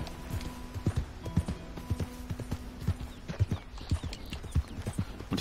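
Horse hooves clip-clopping at a steady riding gait in Red Dead Redemption 2, a close, even stream of hollow thuds running throughout with faint background ambience and no voices.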